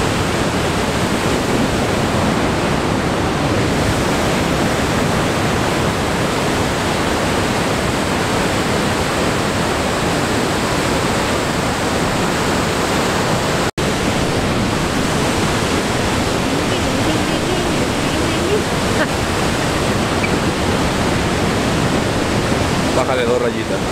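Pailón del Diablo waterfall near Río Verde, Ecuador, roaring as a loud, dense, unbroken rush of falling water heard up close, with voices faintly under the noise.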